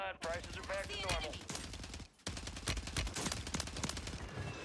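Rapid bursts of gunfire from an FJX Horus in Warzone 3, loud sharp automatic shots in quick irregular strings with a brief pause in the middle, mixed with game voices and effects.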